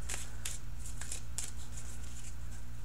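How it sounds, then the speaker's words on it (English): Tarot cards being shuffled by hand, a series of crisp riffling bursts at an uneven rhythm, close and quiet over a low steady hum. "So as I shuffle,"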